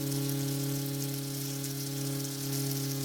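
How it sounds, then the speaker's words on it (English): Steady mechanical buzzing hum with a strong constant pitch, like an electric toothbrush running continuously, close and unchanging. "have you heard an electric toothbrush?"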